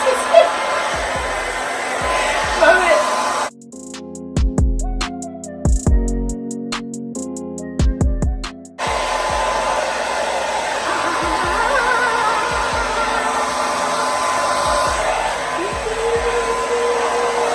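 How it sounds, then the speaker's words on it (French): A hair dryer blows steadily and loudly on a wig, briefly cutting out in the middle before starting up again, with faint background noise throughout. "je vais venir la sécher avec le sèche-cheveux"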